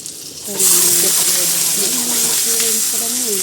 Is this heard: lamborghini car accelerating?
no